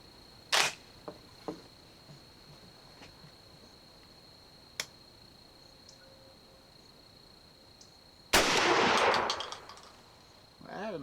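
A shotgun fires a Federal Speed Shock steel shell, No. 2 shot, 1 1/4 ounce, during an outdoor waterfowl pattern test: one sharp, loud blast with a short rolling echo, preceded by scattered faint clicks and taps.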